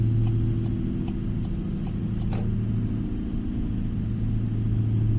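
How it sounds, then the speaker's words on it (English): A Kenworth truck with a V8 engine in a video game gives a steady low rumbling drone, constant and fairly loud throughout with faint ticking above, and no voice. "And I've also got a V8 engine in this Kenworth."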